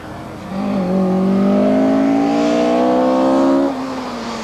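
A 1985 Group B rally car at the Hellendoorn Rally in the Netherlands revs hard and pulls away, its engine note climbing loudly in a sustained, rising drone before easing off as it departs.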